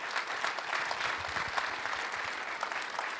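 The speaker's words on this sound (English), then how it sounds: "Give them a nice round of applause." Audience at a youth sports community conversation applauding a panel, an even burst of many hands clapping from a moderately distant crowd, with no talk.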